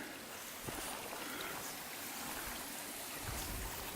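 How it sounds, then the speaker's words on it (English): A small creek runs past a lakeside campsite, a faint, steady trickle and burble of water heard up close with no voices. "Little creek running through."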